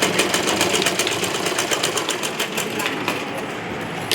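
A sewing machine hammers steadily, close and loud, as it stitches a rolled fabric edge. The stitching is a continuous fast rhythmic run for a few seconds.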